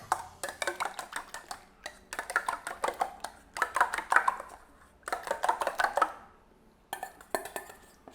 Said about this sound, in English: And then we're gonna whisk in our eggs.